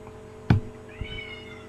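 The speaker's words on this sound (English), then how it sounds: "cat's being annoying" A house cat gives one short, fairly close meow, followed by a faint second sound and quiet room tone.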